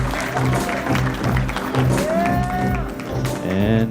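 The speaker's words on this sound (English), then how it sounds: "Round of applause, ladies and gentlemen," Wedding guests applaud the bride and groom, a crowd's clapping mixed with someone speaking over a microphone, with a few cheers rising above it.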